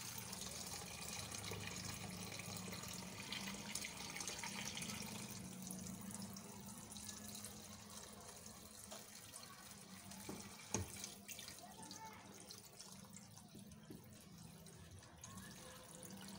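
Cold water running steadily into a cooking pot holding chickpeas with sheep's trotters and head meat, a continuous splashing pour at close range with no talk.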